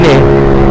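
A Suzuki GSX motorcycle engine drones loud and close in a short steady burst, with a strong low hum that climbs slightly in pitch.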